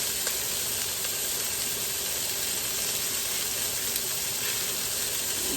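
Chunks of Boston butt and beef neck bones sear in a hot pan with a steady, loud, close sizzle and hiss that continues unbroken throughout, without voices.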